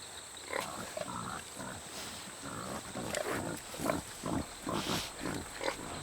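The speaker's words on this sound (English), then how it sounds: "Resembling wild pigs in behavior and appearance, peccaries never stray too far from water." Wild peccaries, pig-like animals, snuffle and grunt near water in the Amazon rainforest of Colombia, a series of short rooting snorts and grunts rising from steady jungle insect hum.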